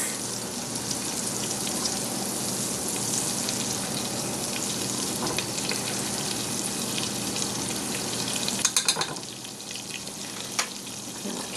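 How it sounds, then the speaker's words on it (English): Onions frying in melted butter in a pan for a Vietnamese chicken ragu, a steady, close crackling sizzle like light rain, with a brief clatter of utensils late on and no talk. "once the butter has melted, we're going to add our onions"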